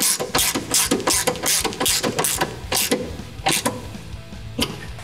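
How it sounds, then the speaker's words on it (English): Ratchet wrench clicking in rapid bursts while tightening the fasteners on a splitter support brace for a 2000 Mustang Cobra R, close and loud, with short pauses between runs of clicks. "when we fully tighten these, we just wanna go down till they get snug"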